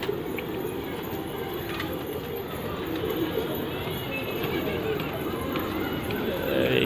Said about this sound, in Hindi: देखिए उधर घुसे हुए थे नीली कबूतर।